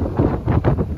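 Strong monsoon wind gusts across an open hillside at Kadam Dungar in Dang, Gujarat, buffeting the microphone in loud, rolling surges with no voices.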